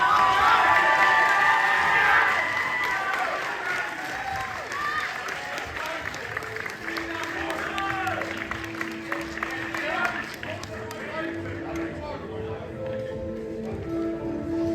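A crowd at a physique competition claps and cheers, loud and dense at first and then easing into a steady, lighter patter of applause with scattered shouts and talk mixed in.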